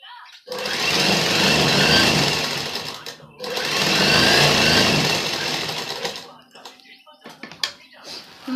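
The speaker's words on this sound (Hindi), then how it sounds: "अब हम इसके ऊपर से सिलाई लगा देते हैं" Electric sewing machine stitching over the folded hem of a kurti, running in two steady, loud bursts of a few seconds each with a short pause between, followed by quieter handling sounds and clicks.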